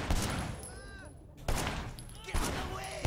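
Gunfire in Sleeping Dogs cracks out in three sharp bursts spaced about a second apart, loud and close, with a voice talking faintly beneath the shots.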